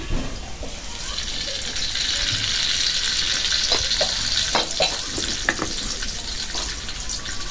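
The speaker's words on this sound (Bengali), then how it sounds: "শুকনা মরিচ ছেড়ে দিচ্ছি, রসুনটা ভেজে দিচ্ছি" Dried chillies and garlic frying in hot oil for a fish curry: a continuous close sizzle with occasional stirring clinks and scrapes, steady throughout with no talk.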